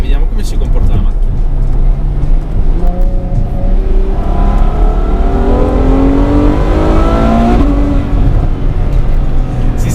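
A Ferrari F12 accelerating in race mode on warm tyres, engine note climbing through rising, sweeping pitch under heavy cabin rumble, loud and close from inside, with a voice talking over it.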